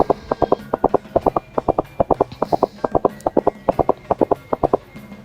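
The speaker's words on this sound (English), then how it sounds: "Horse runs so fast." Rapid, rhythmic hoofbeats of a horse galloping, sharp clip-clop strikes in repeating groups, close and distinct.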